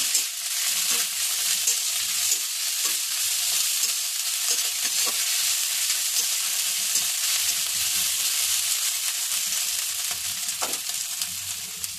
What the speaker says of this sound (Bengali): পেঁয়াজটা আমার ভাজা ভাজা হচ্ছে।